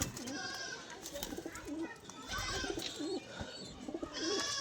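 Several pigeons coo repeatedly at close range, soft throaty rolling calls overlapping one another against a faint background murmur.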